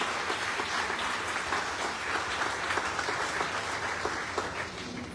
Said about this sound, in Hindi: तालियों की आवाज कम हो रही है भाई, जोरदार होनी चाहिए।